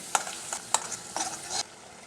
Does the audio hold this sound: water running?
no